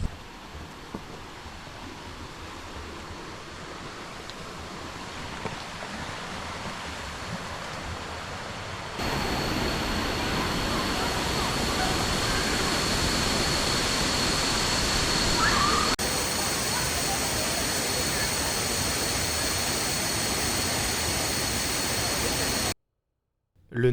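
A waterfall in the forested mountains of northern Thailand on the Mae Hong Son Loop roars as a constant broadband rush, growing louder and closer partway through before cutting off abruptly near the end.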